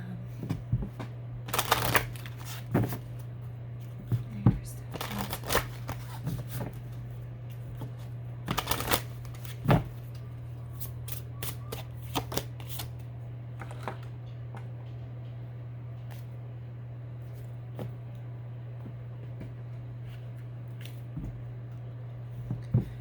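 Tarot cards are shuffled by hand in quick bursts of crisp riffling and slapping, with scattered quieter card handling between them over a steady low electrical hum; no one speaks.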